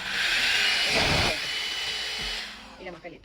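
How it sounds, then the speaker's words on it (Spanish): A Remington hair dryer brush runs at its hottest setting with a steady, close airy whir, while someone speaks briefly over it as the motor softens toward the end. "Yo no uso con mucho calor el cepillo secador"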